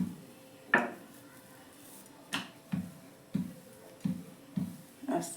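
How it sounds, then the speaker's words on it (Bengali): A rolling pin presses out pea-stuffed paratha dough in a home kitchen. It makes a series of soft wooden knocks and clacks, about eight in a loose rhythm, close and quiet. "আস্তে আস্তে চাপ দিয়ে দিয়ে বেলবো।"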